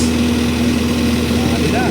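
A boat's 6H-A1-2 engine idles with a steady, low, even hum that runs through the whole stretch, close and continuous, with people talking faintly nearby.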